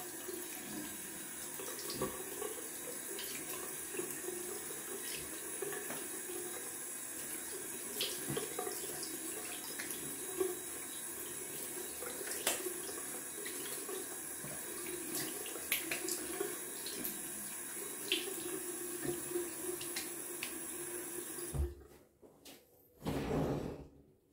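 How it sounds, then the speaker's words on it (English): Cold tap water runs steadily into a sink during rinsing after a shave, a continuous close splashing hiss that cuts off abruptly near the end, followed by a brief clatter. "I'm gonna rinse it off in cold water."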